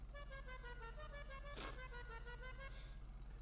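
An older melodic klaxon sounds a string of stepped, harmonic-rich notes, with a brief noisy burst in the middle, all over a continuous low idling drone.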